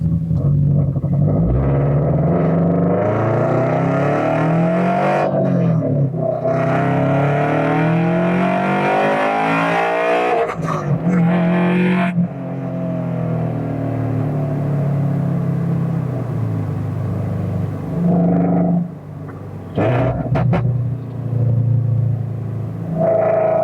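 Toyota GR86 with a manual gearbox accelerating hard on a wet, drizzly road, its engine note climbing in loud sweeping pulls, dropping at each quick gear shift, then rising again, heard close from inside the car.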